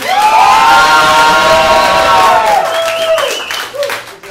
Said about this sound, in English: round of applause for Jenna and Michael here.